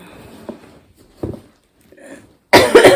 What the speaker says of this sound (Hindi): सॉरी यार बहुत खांसी हो रही है